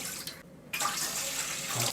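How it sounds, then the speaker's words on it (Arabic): Two cups of water are poured for making whipped cream, a steady splashing stream running for under two seconds with a brief break, fairly faint and with no voices. "اول حاجه كوبايتين ميه"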